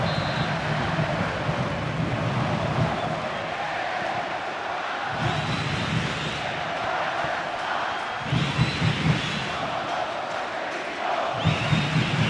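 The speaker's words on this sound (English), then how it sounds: "A raucous crowd here at BMO" A raucous soccer crowd at BMO Stadium during the LAFC vs. Sporting Kansas City U.S. Open Cup Final, a steady dense roar of thousands of fans with surging swells of chanting, heard alone without talk.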